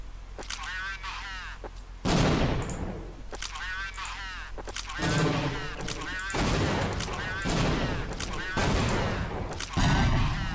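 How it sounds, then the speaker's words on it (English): Grenade explosions and gunfire in a video game map, several loud booming blasts and bursts spaced a second or two apart, with a voice talking between them. "Grenades."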